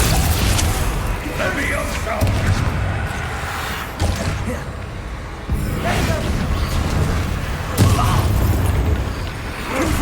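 Fiery Confringo blasts from Hogwarts Legacy combat erupt in repeated booming bursts amid a dense, continuous din of spell effects and battle noise, loud and close throughout.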